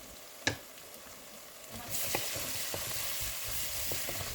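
Ground turmeric and cumin frying in a hot pan for a sauceless Bangladeshi-style pasta, a steady close sizzle with a sharp clink near the start and small scraping stirs throughout, with no talking.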